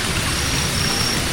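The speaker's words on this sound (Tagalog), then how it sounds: "Mas lumakas po ngayon ng ulan." Heavy rain pours steadily, a dense, loud, continuous hiss and patter with no breaks and no voices.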